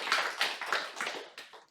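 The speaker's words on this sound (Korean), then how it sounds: "박수" A church congregation claps together in a short burst of dense, close applause that gradually thins out over a couple of seconds.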